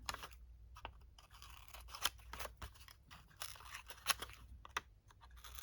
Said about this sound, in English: I'm not snipping it very close to this point, just leaving a tiny bit of room.